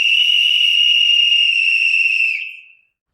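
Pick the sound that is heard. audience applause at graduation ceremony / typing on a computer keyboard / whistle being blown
whistle being blown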